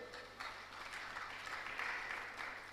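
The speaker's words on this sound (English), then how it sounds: "More round of applause for Engineer Abdul, please" Applause from attendees at an African mineral summit and exhibition, a faint, distant, steady patter of many hands clapping, holding at an even level throughout.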